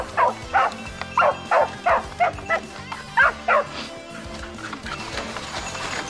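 Hunting dog barking during a wild boar cull in Japan, a run of about ten sharp, evenly spaced barks at close range, then quieter ambient noise with faint rustling.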